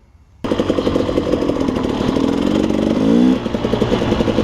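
A KTM 300xc two-stroke dirt bike engine starts loud after a brief quiet moment, then revs steadily while riding with a rising pitch and a strong surge near the end, close and alone with no talk.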